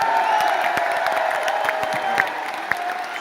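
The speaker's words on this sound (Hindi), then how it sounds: "तालियां" A large crowd at a 25-year silver jubilee celebration event applauds loudly and steadily, with scattered cheers and whoops rising over dense, continuous clapping that fills the space.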